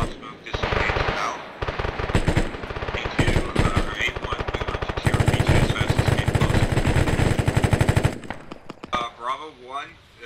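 Automatic gunfire in the military video game Arma 3, dense rapid bursts of loud machine-gun fire over several seconds, with radio-style voices talking over and between the shots.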